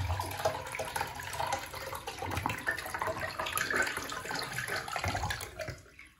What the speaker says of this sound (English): So I'm just gonna pour water down the Modernist, and I'm gonna try to keep up with the flushing as best as I can.